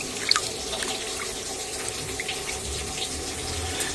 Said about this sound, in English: We let this drain a bit